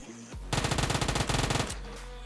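A light machine gun in a video game fires one sustained, rapid automatic burst of about a second, loud and close, with a steady game hum before and after.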